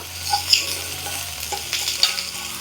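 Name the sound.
stirring ginger and garlic frying in a pan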